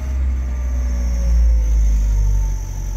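An Opel Corsa B with an idling fault runs with a low, steady engine rumble whose pitch swells and sags slightly over a few seconds, close by and with no voices.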